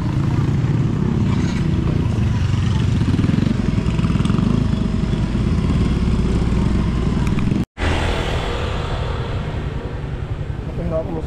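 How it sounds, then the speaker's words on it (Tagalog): A motorcycle engine drones steadily and loudly throughout, with a brief cutout near the end before it resumes; people talk over it. "Gamit nga pala namin yung motor ni ni Frozen."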